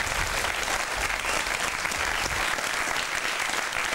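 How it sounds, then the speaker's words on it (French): Studio audience at a French television talk show bursts into sustained, dense applause, steady and loud throughout with no voices over it. "je vous prie de vous joindre à moi pour applaudir"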